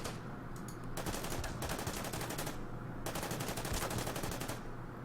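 Sustained rapid automatic gunfire in the World War II strategy game Order of Battle, dense bursts of loud shots rattling almost continuously with brief gaps, close and without talk.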